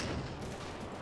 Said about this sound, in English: Seems like artillery is coming in as well